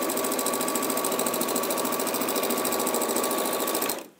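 An Elna sewing machine runs steadily while stitching down the side of a bag, a fast even whirring chatter held at constant speed for about four seconds before stopping abruptly. Close and clear, with no voices.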